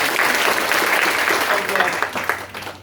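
A hall audience at a World Mental Health Day celebration applauds loudly, a dense wash of clapping that holds steady and then thins out over about three seconds.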